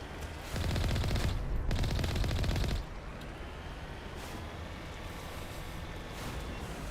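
A Colossus in Mass Effect firing plasma bolts, heard as a loud, dense, rapid burst of crackling fire lasting about two seconds, followed by a heavy rumbling wash of sound that slowly fades.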